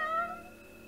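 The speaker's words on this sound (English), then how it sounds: "the cat was pawning at the ring of keys on Elizabeth" A cat meows once in the video game Fausts Alptraum, a single drawn-out, falling cry, fairly clear and close, with nothing else over it.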